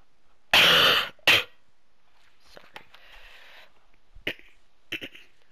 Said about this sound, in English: man, I hate this cough so much.